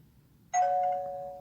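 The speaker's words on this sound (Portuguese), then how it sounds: "Onde tem a campainha e o interruptorzinho" An electric doorbell wired to a small switch in a simple circuit sounds once after a short quiet pause, a single bright ding that rings on and slowly fades, alone and close.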